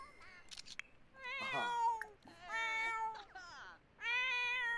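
A cat in The Sims 4 video game meows repeatedly in drawn-out, tonal cries, loud and close, with short pauses between calls and faint background noise.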